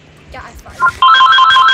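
A phone rings in the background during a Minecraft Survival Games session, a bright repeating electronic trill that starts partway through and continues loudly after some brief talk.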